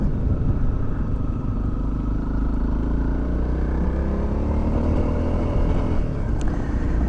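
A Honda CRF250L motorcycle engine drones steadily while riding along a road in Montana, with continuous wind rush and a fairly loud, close hum.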